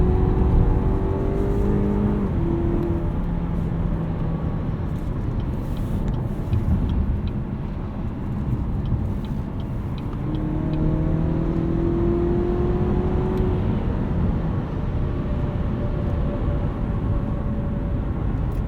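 A 2017 Cadillac CT6 engine hums steadily while driving, heard from inside the cabin as a low drone with mild swells in pitch as it accelerates, mixed with road and wind noise.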